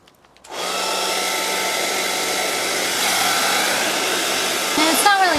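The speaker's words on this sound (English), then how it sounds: "now let's see if we can close this with the hairdryer" A hairdryer blows on cling wrap during a homemade bath bomb and spa gift project, a steady, close, continuous whooshing hum that starts after a short pause and runs unbroken.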